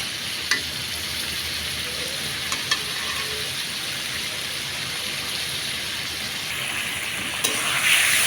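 Potatoes and pointed gourd sauté in oil in a pan, giving a steady, close sizzle that hisses evenly throughout, with a few faint utensil taps and no voices.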